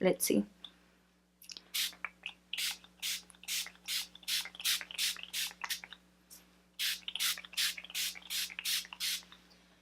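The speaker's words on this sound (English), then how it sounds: "I'm just gonna spray my face" A spray bottle of water mists a face in a quick series of short hissing spritzes, about a dozen bursts in uneven rhythm, after a brief murmured phrase.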